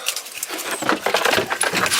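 A set of keys jangles up close as they are gathered with a phone and wallet, making brief metallic rattles and clinks over about two seconds without speech.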